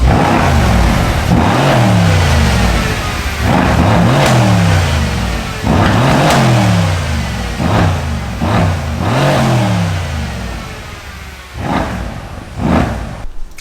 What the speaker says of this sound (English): hope you enjoyed that little revving of the exhaust